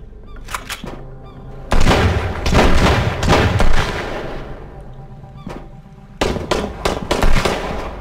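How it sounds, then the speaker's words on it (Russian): Shotgun blasts in the survival video game Sunkenland, several loud, sharp booming shots in quick clusters with short pauses between them, close and dominant. "ничего себе, это дробовик"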